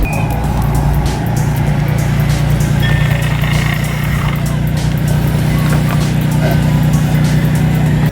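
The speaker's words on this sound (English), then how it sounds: "Just got the exhaust fixed, so now it's not hitting anything and it's sitting in the right place." A car with a newly fixed exhaust drives along, giving a steady, close engine drone and road rumble that holds constant throughout.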